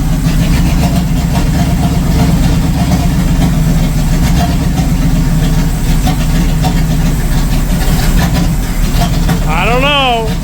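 The engine of a 1937 Ford pickup idling loudly and steadily close by, a continuous low rumble throughout, with a voice briefly heard near the end.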